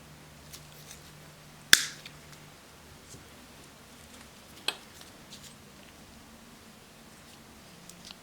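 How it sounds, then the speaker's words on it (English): Orthodontic wire is snipped to trim the excess from a Z spring, giving one sharp close metallic click followed by a quieter second snip a few seconds later in an otherwise quiet room. "Then I will cut the excess wire."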